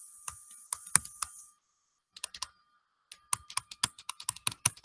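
Someone types C code on a computer keyboard, with quick bursts of crisp, close key clicks separated by a brief pause. No voices are heard.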